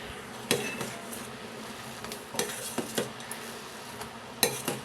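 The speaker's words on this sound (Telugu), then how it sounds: "ఒక నాలుగు యాలక్కాయలని ఇలా దంచి వేసుకుందాం" Four cardamom pods are crushed with a few sharp, irregular pounding knocks against a hard surface, close but fairly quiet, spaced over a low background hum with no talk.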